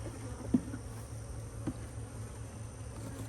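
Honey bees buzz in a cow pasture apiary, a faint steady drone with a couple of brief louder passes as single bees fly close.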